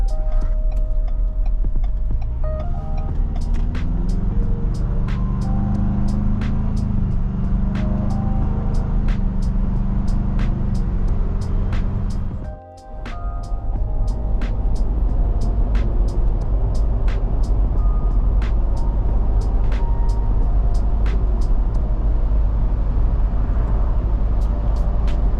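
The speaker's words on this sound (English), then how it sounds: "so you guys can hear road noise and acceleration" Steady cabin road noise from a Ford Bronco with a 4-cylinder engine while driving, with a low engine tone that climbs in pitch under acceleration early on, then a brief dip before the continuous rumble and tire roar resume.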